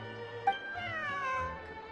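A cat meows once with a high, sliding cry in Genshin Impact, sounding close and clear over a soft game music bed with no talking.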